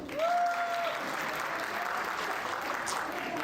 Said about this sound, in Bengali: তাদেরকে অগ্রিম হাততালি